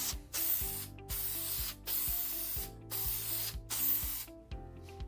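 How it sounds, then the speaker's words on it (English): Mold release agent sprayed from a can onto an epoxy casting mold, heard as a series of close, hissing spray bursts of about a second each, separated by brief gaps and a faint clicking of the nozzle. "I'm going to spray this mold with that release agent"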